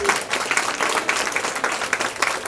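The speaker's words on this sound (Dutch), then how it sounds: "Geef u een applaus." Audience applause at a high tea afternoon, a steady wash of many hands clapping for a live trio, fairly close and continuous with brief swells, with no talk over it.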